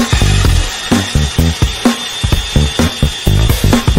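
A Milwaukee M18 power tool grinds through wood in repeated short bursts, with a whining motor pitch and a rough, choppy cutting rhythm.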